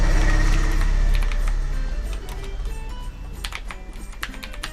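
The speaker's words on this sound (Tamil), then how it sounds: "அப்படின்னு டைப் பண்ணியாச்சு." Keys clatter on a computer keyboard as text is entered in Photoshop, a quick irregular run of clicks over a low background hum, close and clear.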